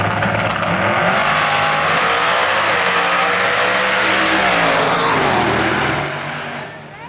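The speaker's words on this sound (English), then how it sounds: "The Turbo truck beat the nitrous Hellcat." A turbocharged GMC truck and a nitrous-fed Hellcat drag racing an eighth-mile pass at a street car event, loud roaring engines with continuous revving and tire noise that holds steady before fading as they pull away.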